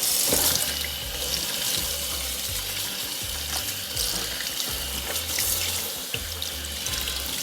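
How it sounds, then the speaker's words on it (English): Tap water runs steadily into a sink as a Pampered Chef Rapid-Prep mandoline is rinsed beneath it, a continuous close splashing wash with no voices. "And then I rinse it off to see if I've missed anything."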